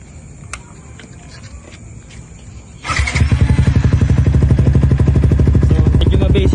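A motorcycle fitted with an MVR1 power pipe exhaust fires up after a quiet moment, then settles into a loud, close, rapidly pulsing idle with light revving that continues to the end.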